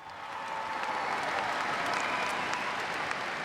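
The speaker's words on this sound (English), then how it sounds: "keep that applause going for the 2012 champions of the ANZ Championship" Steady, dense clapping from a stadium crowd at the 2012 ANZ Championship netball presentation, sustained and even throughout with no talking.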